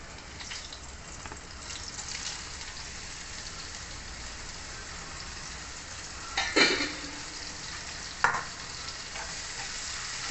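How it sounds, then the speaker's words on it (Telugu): Bitter gourd pieces dropped into two spoons of hot oil in a pan sizzle steadily, with a couple of louder crackling bursts and light stirring noises partway through. "నూనె వేడెక్కిందండి. ఇప్పుడు ఈ కాకరకాయ ముక్కలు ఇందులో వేసేసుకుంటున్నాను."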